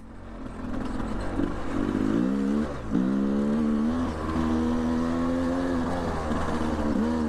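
Motorcycle engine running steadily while the bike slows for curves, a loud, close drone with pitch rising and falling as the rider eases off and picks up speed, with wind noise throughout.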